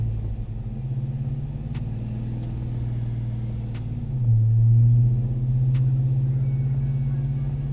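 6.2L GMC Sierra Denali V8, supercharged with ProCharger and a BTR cam, revving under load on a dyno in third gear; a steady loud rumble climbs in pitch, peaking near the middle, then holds high and heavy.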